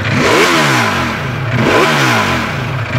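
A Ducati Panigale V4 superbike with its original exhaust revs hard twice, the loud engine note sweeping up and falling back in rising harmonic arcs, close by with no talk over it.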